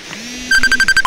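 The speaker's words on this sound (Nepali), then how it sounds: "कसको फोन आयो यार" A mobile phone rings outdoors at a riverside picnic, giving a short electronic ringtone of rapid, bright repeated tones that starts abruptly and sounds close.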